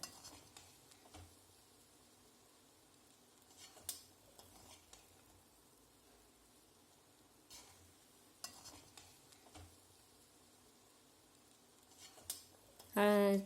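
Raw banana podimas is stirred from the bottom with a large ladle, giving soft, sparse scrapes and light knocks against the pan over a quiet background, ending with a brief louder clatter.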